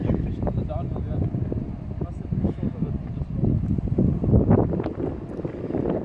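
Strong wind buffets the microphone on the open Serengeti plains, a loud, continuous low roar that swells and gusts throughout, with a person speaking underneath.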